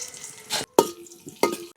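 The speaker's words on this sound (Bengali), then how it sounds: "কাজু কিশমিশ হালকা করে ভেজে নিয়েছি" Washed cashews and raisins hit hot oil already seasoned with cardamom, cinnamon and cloves for biryani, giving a few short sizzling, stirring bursts with brief gaps between them.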